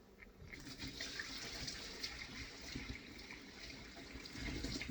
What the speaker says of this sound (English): now I'm going to go and pour off the water.